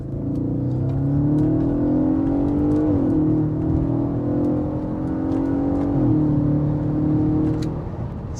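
An Audi RS4 Avant B8 with its naturally aspirated 4.2 V8 pulls hard through the gears, the engine note rising loud and close, breaking twice at upshifts before climbing again.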